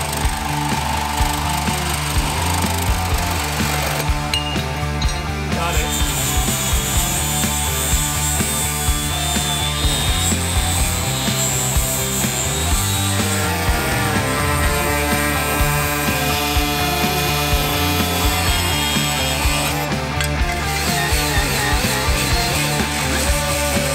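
A saw cuts through a steel vehicle frame rail being trimmed to fit an aftermarket bumper on a wagon, a loud, steady, rasping buzz that runs nonstop with a rhythmic grinding pulse and short bursts of brighter metallic screech.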